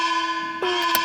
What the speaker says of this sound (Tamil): single bell